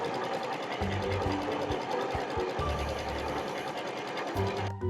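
A sewing machine stitches down the front edge of a fabric hood, its needle whirring in a fast, steady run with a few brief stops, while a voice murmurs faintly underneath.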